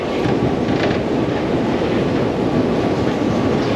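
Steady low rumble and broadband roar of a Budapest metro train in motion, loud and continuous throughout with no pauses.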